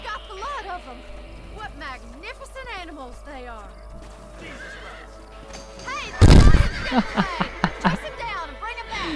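Horses neigh and whinny repeatedly in the Red Dead Redemption video game, their calls mixed with game sounds and talk, with a loud burst of action partway through.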